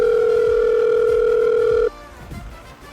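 A phone line gives a steady electronic tone for nearly two seconds, loud and clear, and then cuts off abruptly into faint background noise.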